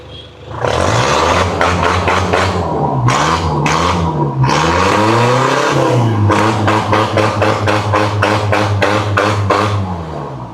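A car engine revving repeatedly in loud, close bursts, each rev rising and falling in pitch, with rhythmic pulses running through the whole stretch and no one talking over it.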